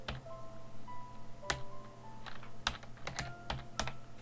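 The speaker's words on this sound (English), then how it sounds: "I'm just going to type in" Typing on a computer keyboard while working in Photoshop: scattered, irregular key clicks and taps, close and fairly quiet, with no talking.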